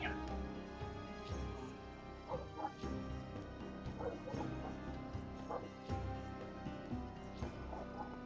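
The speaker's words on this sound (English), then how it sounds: "On my mic, you can hear the dog barking outside" A dog barks outside, picked up indistinctly through a microphone during a home tabletop gaming and miniature-painting session, giving repeated yips and whimpering barks under steady background music and room noise.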